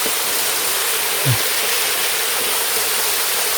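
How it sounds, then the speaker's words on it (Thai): A steep forest waterfall pours in a loud, constant broadband rush with no breaks, heard up close and alone, with one brief low knock partway through. "เป็นน้ำตกที่ ชันที่สุดเลยก็ว่าได้"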